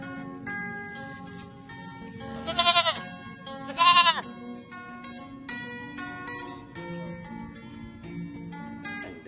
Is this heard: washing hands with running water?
no